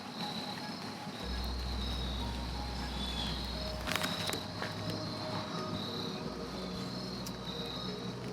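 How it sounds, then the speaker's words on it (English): Crickets chirp in a garden at sunset, a faint, steady insect trill heard alone, with a few soft footstep-like thuds partway through. "I love the sound of those crickets."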